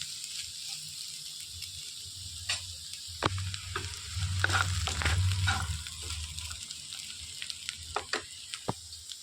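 Cluster beans fry stirred in a pan, with a steady low sizzle and scraping spatula strokes that swell in the middle and trail off into sparse clicks, close and fairly loud, no talking.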